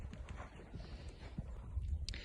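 A horse walking straight during riding training, soft rhythmic hoof clip-clops on the ground, fairly faint, under a person speaking.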